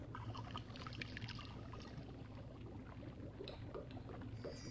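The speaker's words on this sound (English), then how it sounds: "I'll just pour the finished potion into one of these vials." A finished potion is poured into a glass vial in a fantasy adventure video game, a soft, continuous liquid trickle and splash lasting a few seconds at low volume, with no voices.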